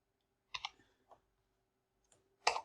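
A few keystrokes on a computer keyboard, quiet close clicks in small clusters separated by silence.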